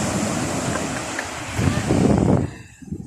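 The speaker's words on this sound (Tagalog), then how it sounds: "Kaso ang lakas ng alon, baka mahigop tayo sa gitna." Loud surf from strong ocean waves crashes and rushes close by, with wind roaring into the microphone before the wash fades near the end.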